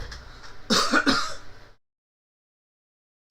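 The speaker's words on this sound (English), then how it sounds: "I had a cough anyway" A single throaty cough, close and loud, lasting about a second and followed by silence.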